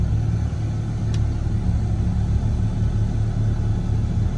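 A rollback tow truck's engine drones at a steady, moderate pitch while driving, a continuous close cab rumble with no breaks.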